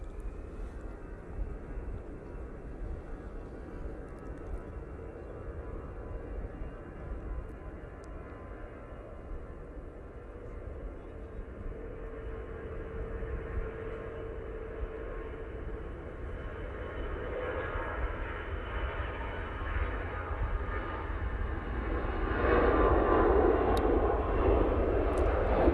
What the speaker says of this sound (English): here comes the Easyjet going off to Paris